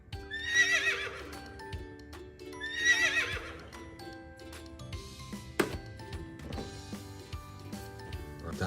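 A toy horse plays recorded sounds: two loud, shrill whinnies, each followed by clip-clop hoofbeats and electronic chiming, with no speech.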